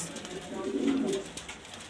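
Imported German beauty homer pigeons in a Dhaka loft coo in a low, soft burst near the middle, set against steady background hiss.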